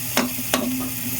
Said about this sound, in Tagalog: Antayin ko lang mag-brown yung yung garlic